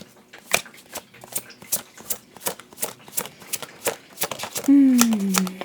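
Tarot cards are shuffled by hand close up in a run of about a dozen crisp, rhythmic riffles and taps, then a voice begins speaking near the end.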